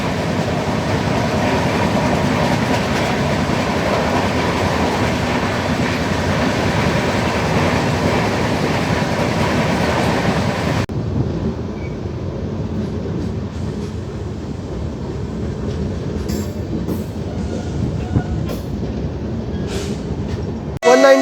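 The 20413 Kashi Mahakal SF Express runs from Varanasi to Indore via Sultanpur and Lucknow on a single-line section, a steady close rumble and rattle of wheels and coaches that turns quieter and thinner partway through.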